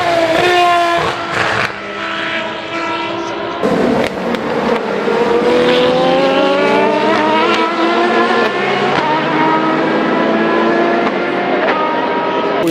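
BMW race car at Le Mans, its engine screaming loud and close with rising gear-by-gear pitch sweeps and a sharp shift break before climbing again.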